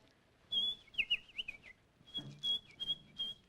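A person whistles from a market square, high wavering notes in two short bursts with a brief pause between, moderately close and with no talking.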